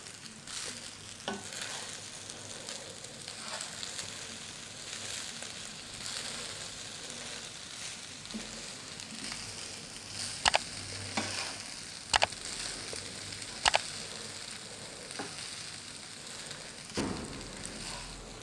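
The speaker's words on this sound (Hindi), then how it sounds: "अब इनको हमने हल्के हाथों से मिक्स कर लेना है।" Chicken fajita rice is stirred and tossed in a hot pan, a continuous soft sizzle with scraping strokes and a few sharper clacks of the spoon against the pan, close and without talk.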